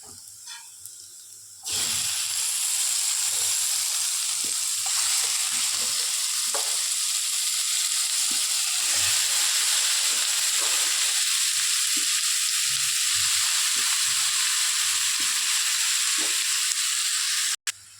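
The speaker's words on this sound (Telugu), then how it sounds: "సో ఇప్పుడైతే బాగా ఫ్రై చేసుకోవాలి ఫ్రెండ్స్" Onions and paneer fry in a pan for paneer and capsicum curry. A loud, steady sizzle and hiss begins abruptly and runs unbroken to a sudden stop, with faint stirring knocks underneath.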